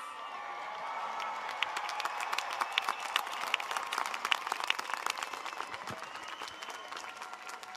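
Guests at a Rice University commencement ceremony stand and applaud Weiss College graduate degree candidates, a large crowd clapping continuously with scattered cheers, swelling in the middle and easing toward the end.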